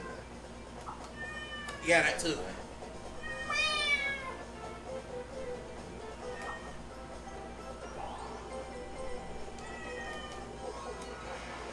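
A man imitates a cat with loud nasal meows and drawn-out caterwauls near the start, followed by fainter mews, while other people talk and laugh in the room.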